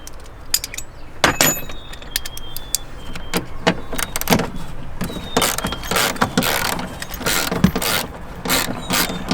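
A wrench works rusty seatbelt bolts out of an FJ80 80 Series Land Cruiser, with sharp metallic clicks and ratcheting taps that come in irregular bursts, close and fairly loud, over a quiet vehicle interior.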